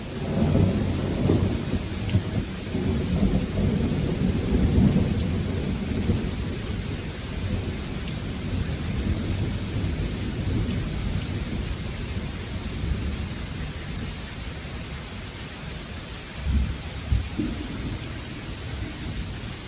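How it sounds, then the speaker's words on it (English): Steady rain pours close by with low rumbles of thunder rolling underneath, swelling briefly near the start and again toward the end. "That rain is blowing on me."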